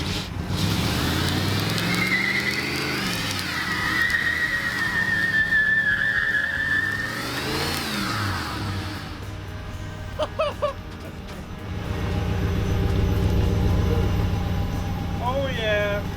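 A 1989 Chevy C1500 Silverado truck doing a tire burnout with smoking tires: loud engine revving and rising, wavering tire squeal over several seconds, then a lower steady rumble; people talk and shout over it.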